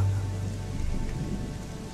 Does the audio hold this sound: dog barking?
no